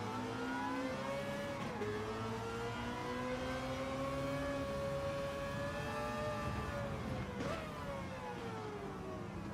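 Race car engine revving in a racing video game, with rising and falling harmonic pitch as it accelerates and shifts, steady and loud throughout with a couple of quick gear changes and no voices.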